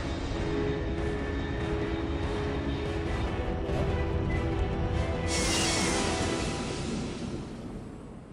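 A fast aircraft roars overhead in the video game Metal Gear Solid 3, a sustained loud jet rumble that surges into a brighter hissing burst midway before slowly fading, with no talk.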